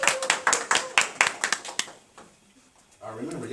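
Audience applause in a talk-show-style event: a burst of clapping hands lasting under two seconds, fading out, then brief talk.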